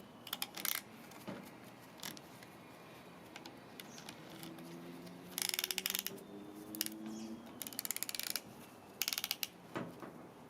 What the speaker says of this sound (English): Crank the pulley until it reaches its maximal turning point.